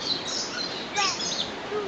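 Birds chirp and call continuously in the Hong Kong Park aviary, a dense chorus of small high tweets and whistles layered at moderate distance, with no talking.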